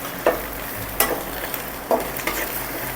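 Colostrum milk being stirred into roasted gram flour in a hot pan for baoli, a steady wet stirring and sizzle with a few louder scrapes of the spoon at roughly one-second intervals, close and continuous.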